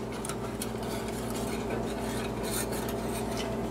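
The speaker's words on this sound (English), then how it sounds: "so I'll keep stirring it constantly here" A spoon or spatula stirs a thickening breakfast mixture in a pot on a stovetop, giving a steady scraping, rasping rub against the pot bottom that continues without break at close range.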